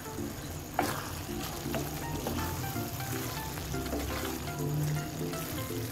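Beef keema karahi frying and sizzling in a karahi while being gently mixed, a steady close crackle with faint spoon scrapes and a light knock near the start, no talk.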